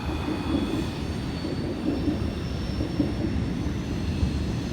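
A Norfolk Southern train rolls past on the CA&C railroad near a diamond crossing and old signal tower, a steady close rumble of wheels and cars with faint squeal, continuous for the whole stretch.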